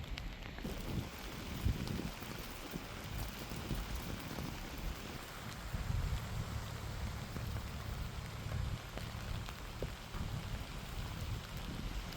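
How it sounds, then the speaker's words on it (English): Rain falls steadily over a countryside campsite in Australia, a soft, even hiss and patter that fills the whole stretch with occasional low gusty rumbles and no talking. "hopefully this rain don't last too long"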